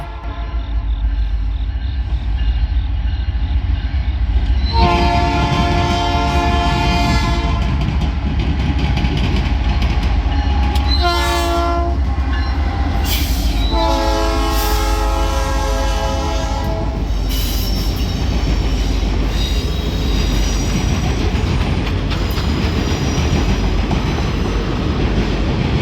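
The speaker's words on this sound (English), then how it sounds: "Norfolk Southern train number 955, the Office Cars Special, Deadheading to Irondale," Norfolk Southern train 955, the Office Cars Special, passes close by with loud horn blasts sounding repeatedly, a steady roar of rolling cars and rattling wheels continuing throughout.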